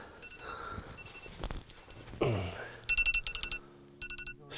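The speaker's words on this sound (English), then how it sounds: "The old alarm's going off, isn't it?" A phone alarm set for early morning beeps in repeated bursts on a carp fishing trip before dawn, fairly close, following some handling noise and rustling.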